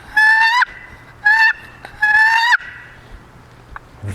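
Turkey box call slid with light pressure, giving three short raspy yelps in a row, close and loud, with no voices over them.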